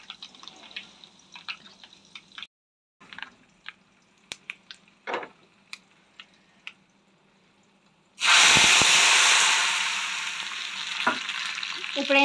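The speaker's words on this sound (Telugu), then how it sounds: "ఎప్పుడైనా కానీ తాలింపు వేసినప్పుడు ఇలా సౌండ్ రావాలి అనేసి అంటారు మా వారు" Tempering spices hit hot oil for a vegetable dal rasam, bursting into a loud, sustained sizzle that follows a quiet stretch of scattered kitchen clinks and taps.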